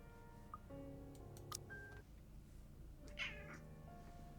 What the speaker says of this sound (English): Ignore the kitty meowing.